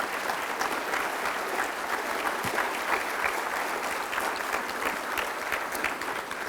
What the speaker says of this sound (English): give her a big round of applause for what she did for the Farm Bureau family